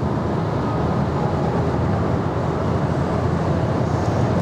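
Loud, steady broadband road and wind roar inside an Audi Q4 e-tron 50 Sportback electric SUV cruising at 160 km/h, a continuous rushing noise with no talking.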